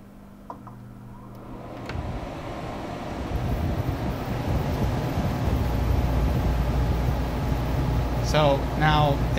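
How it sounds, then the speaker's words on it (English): An air conditioner starts up in stages, blower fan then exhaust fan then compressor, building from a faint hum into a loud, steady broadband roar with low rumble, while someone talks briefly near the end. "You're going to hear the blower fan come on first, then the exhaust fan, and then the compressor."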